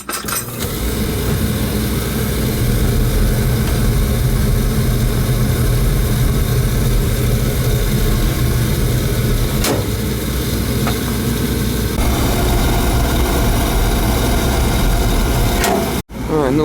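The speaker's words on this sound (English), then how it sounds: "we'll fire it up again" An oil-fired lowboy furnace burner, freshly serviced with a new nozzle, filters and cleaned burner head, runs with a loud, steady roaring drone that holds unbroken before cutting off briefly near the end.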